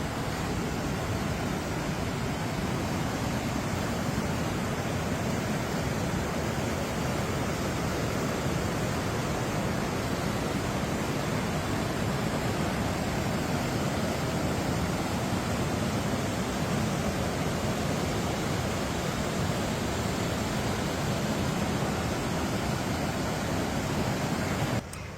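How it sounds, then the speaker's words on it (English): River rapids rush beside a tent at a campsite, a continuous broadband roar of flowing water holding steady and fairly close throughout with no voices. "So I get to hear this lovely sound of the river all night long."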